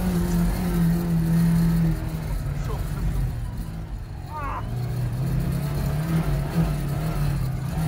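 A Lada Niva 1.7L with permanent four-wheel drive drives off-road, its engine droning loud and steady with shifting revs, while voices talk over the noise.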